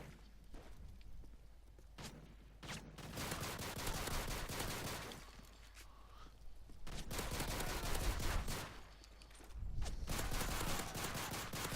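Sustained, chaotic video game gunfire in Modern Warfare 3, with an AK rifle and a pistol firing in dense bursts and rapid single shots, loud and near, with brief pauses between volleys.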